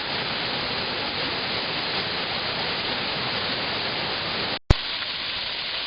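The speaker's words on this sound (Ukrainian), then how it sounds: "І основний водоспад, до якого ми зараз підійдемо." Düden waterfall in Turkey, a steady broadband roar of rushing, falling water, close and loud and continuous, cutting out abruptly near the end before resuming more faintly.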